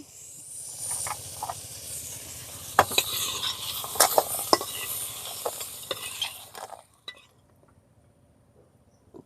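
Crab seasoned with salt and turmeric fries in a pan, a crackling sizzle with sharp scraping and clinking strokes of a spatula, close and lively, before the frying dies away into near silence at the end.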